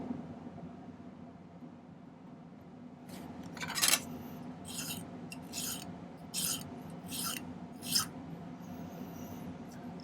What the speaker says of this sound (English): File the second one now.